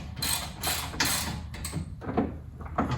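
A bolt is run in and tightened on a BMW Z4 shock, giving repeated close ratcheting clicks in short bursts with brief pauses between them, and no talking.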